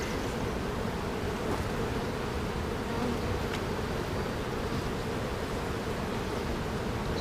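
Dense, continuous buzzing of a honeybee colony during a hive inspection, close and steady throughout with no talk.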